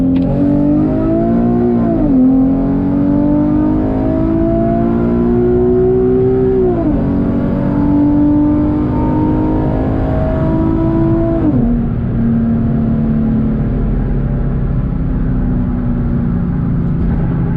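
A gutted Infiniti G37x with its VQ engine pulls hard in second gear from a 40 mph roll, the loud exhaust note climbing steadily with brief dips at each gear change.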